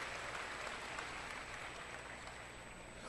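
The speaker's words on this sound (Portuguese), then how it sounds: "Nota 10, na salva de palmas pra ela" An audience claps in sustained, even applause, a continuous dense hiss of many hands heard from some distance, steady throughout the three seconds with no talking over it.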